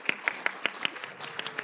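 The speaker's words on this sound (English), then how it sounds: "So how about a round of applause for Emily?" A panel audience gives a sparse, quiet round of applause, a few distinct claps spaced a fraction of a second apart from a small group.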